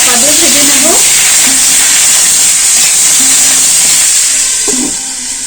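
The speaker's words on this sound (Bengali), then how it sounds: "এই সবজিগুলো একটু চাপা দিয়ে ভেজে নেব" Papaya, sweet potato and carrot with salt fry under a lid for shukto, a loud, continuous hissing sizzle that barely changes, with brief faint voice-like sounds near the start and end.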